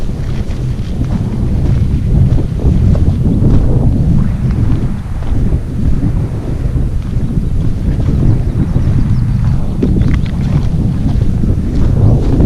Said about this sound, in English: the wind's starting to pick up as well